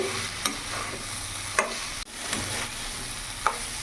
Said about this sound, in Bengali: মশলার সাথে ভালো করে একসাথে মিশিয়ে কিছুক্ষণ ধরে কষিয়ে নিয়েছি